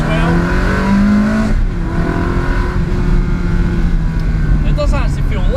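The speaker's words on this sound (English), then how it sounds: "the engine does sound fantastic" A Ferrari 360 Spider engine drones loudly, its pitch climbing through the revs, then dropping with a gear change and rising again, all under a constant rush of road and wind noise.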